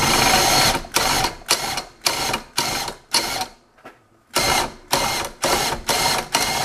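A homemade turbocharger built as a flamethrower is spun up repeatedly, making a loud, rhythmic series of roughly ten whooshing bursts with a brief quiet break midway.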